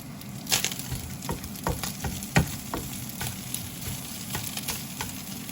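Ground beef for tacos browns and sizzles in a frying pan, a steady close crackle broken by scattered sharper pops and the odd scrape of a utensil stirring the chopped meat.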